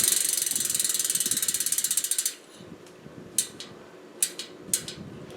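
Stan's Neo bicycle hub ratchet freewheeling with a rapid, steady stream of loud close clicks for about two seconds, then a few separate short bursts of clicking as the wheel is nudged.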